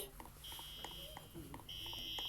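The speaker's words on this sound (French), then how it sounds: "Je vais déclencher l'alarme dans mon laboratoire pour que tout le monde sache que quelqu'un s'est échappé." A laboratory alarm sounds in steady electronic beeping tones, with a high sustained buzz that drops out and then returns louder, over a low background hum and scattered faint noises.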